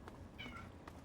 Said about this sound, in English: I am being meowed at by Space Cat again